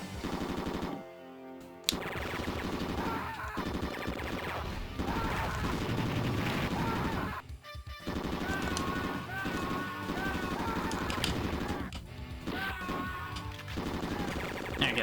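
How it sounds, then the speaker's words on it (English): Heavy machine gun fire in the run-and-gun video game Commando: Steel Disaster, a loud sustained burst of rapid shots over busy game music and effects, with brief breaks in the stream. "Heavy machine gun."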